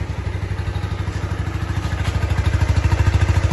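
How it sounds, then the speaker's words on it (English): A Kawasaki Z125 motorcycle with its quiet factory stock exhaust idling nearby, a steady low rhythmic putter that pulses evenly and grows slightly louder toward the end. "let's go ahead and hear this factory exhaust. It's so quiet."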